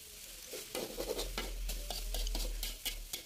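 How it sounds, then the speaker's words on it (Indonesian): Pastel filling cooked with oyster sauce and fish sauce over high heat, stirred in a pan with a spatula scraping and clattering against the metal over a continuous sizzle and a low burner rumble. "Lalu tinggal diaduk-aduk."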